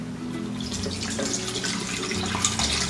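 Coconut water poured for a smoothie, a steady splashing liquid stream running close and fairly loud for the whole stretch, with no voices.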